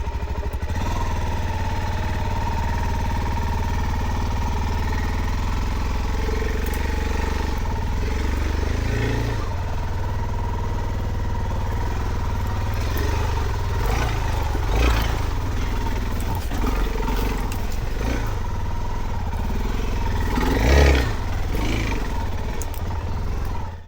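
A Suzuki DR-Z4S motorcycle climbs slowly up a slippery gravel slope, its engine a steady low rumble that swells briefly at a couple of moments, with crunching tyre noise close to the microphone.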